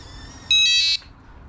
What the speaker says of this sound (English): Very loud, annoying beep